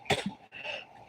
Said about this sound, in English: now I have the hacking cough